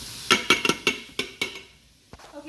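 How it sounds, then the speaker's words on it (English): A spoon stirs two onions in the metal inner pot of an Instant Pot, scraping up browned bits with a quick run of close, bright clinks and scrapes that thins out toward the end, with no talking. "I'm putting in my 2 onions into the pot. Gonna give it a little stir."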